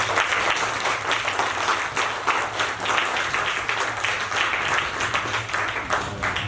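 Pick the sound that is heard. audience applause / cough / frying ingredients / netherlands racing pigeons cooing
audience applause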